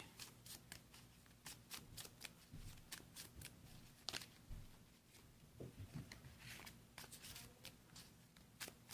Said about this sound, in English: And shuffle our deck.